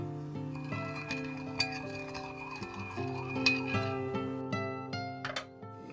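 A spoon clinks and taps against a bowl while seasoning, salt, MSG, caramel sauce and water are stirred together, a few light scattered strikes under steady background music.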